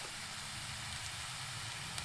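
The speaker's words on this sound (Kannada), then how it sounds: "ಎಣ್ಣೆಯಲ್ಲಿ ಎಲ್ಲ ಚೆನ್ನಾಗಿ ಫ್ರೈ ಆಗಬೇಕು." Spinach, fenugreek and coriander leaves fry in hot oil for a dal fry, giving a steady, soft sizzling hiss close by with no voices.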